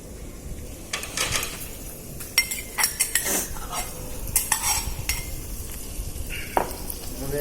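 A spoon scrapes and clinks in a pot as garlic spice masala is stirred into eggplant over a wood-fired clay stove, uneven metallic knocks over a soft sizzling bed.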